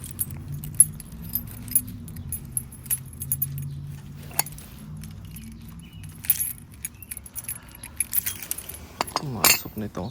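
Keys jangle and clink repeatedly as a key is worked into the lock of a camper door, with low vehicle-like rumble underneath and people talking nearby.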